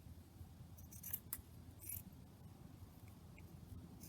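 Blunt IKEA scissors snip through fabric, cutting it roughly in half with a few soft, crisp cuts close by over a low background hum.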